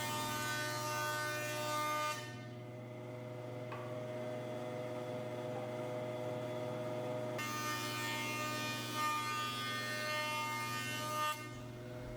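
A jointer planes a salvaged walnut board: a steady, loud motor drone with tonal hum runs throughout, while harsher cutting noise comes and goes as the board passes over the blades, dropping out in the middle and again near the end.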